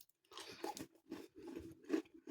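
Someone bites and chews a crispy, heavily sugared Streuselkuchen crumble pastry with custard, up close. The crunching comes in steady rhythmic bursts and is fairly quiet, with no talking.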